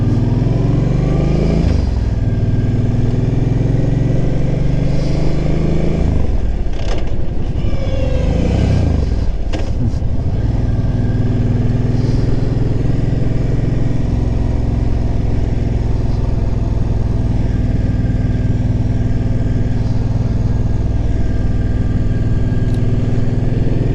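Motorcycle ridden along a boulevard with a sticking gear shift, a loud continuous engine drone with audible revs dropping and climbing around gear changes, wind rush throughout, no talk.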